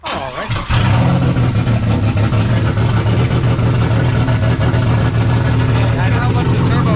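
A loud, steady car engine with a turbo kit idles with a deep rumbling drone and a constant roar that starts abruptly after a brief quieter moment.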